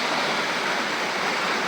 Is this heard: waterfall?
yes